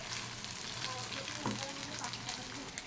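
Rice frying with raisins and cashews, a dense close sizzle with light stirring scrapes running continuously.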